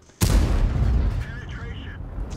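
A single heavy cannon blast from the T28 Prototype tank destroyer in World of Tanks, a sudden loud boom that rolls on into a long rumbling tail, with faint game effects trailing after it.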